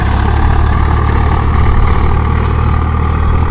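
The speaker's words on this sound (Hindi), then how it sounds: "बढ़िया खिंचाई कर रहा है ट्रैक्टर, कोई आरपीएम ड्रॉप नहीं कर रहा, दम नहीं तोड़ रहा" Swaraj 744 FE tractor engine pulling a cultivator under load, a steady, loud low diesel drone that holds its revs without dropping, continuous and close throughout.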